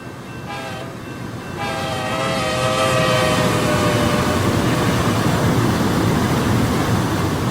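An Amtrak Talgo Cascades train in the RO-Scale Sandbox video game, its horn sounding briefly before a loud steady rumble of rolling wheels builds and continues.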